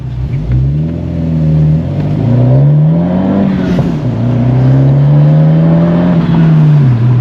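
Car fitted with a GOPedal Plus throttle controller accelerating in town, the engine note rising loudly through a gear change and climbing again, close and steady with no talk.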